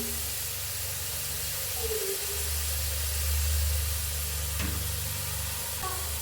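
Beetroot palya frying in a pan with steady, soft sizzling and hissing close by, with occasional faint stirring scrapes and no talking.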